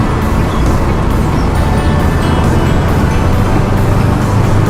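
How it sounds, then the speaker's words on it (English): A manual Subaru Outback Sport is driven at speed with the windows down, giving a dense, continuous roar of wind and road noise with engine hum throughout. "we're zipping right along in the Subaru Outback"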